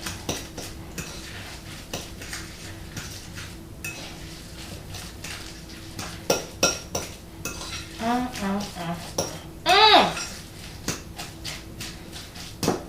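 Deviled egg yolk filling stirred in a bowl, with soft scraping and clinking of a utensil against the dish, a few louder taps and knocks, and brief talk near the end.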